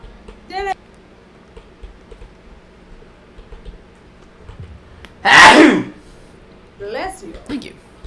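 A single loud, close sneeze bursts out in a quiet room, brief and sharp, with a few soft voiced sounds and faint ticks before and after it.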